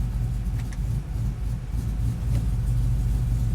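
A big-cam V8 idles with the air conditioning running, a loud close rumble with a lopey, uneven chop that wavers slightly throughout; no voices.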